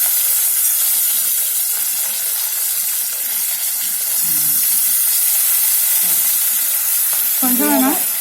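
Moong dal frying in a pan for a home-cooked cabbage curry, a loud continuous sizzle with hiss and stirring scrapes close up, and a few brief voices speaking over it near the end.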